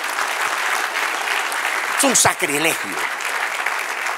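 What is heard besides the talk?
audience applause in church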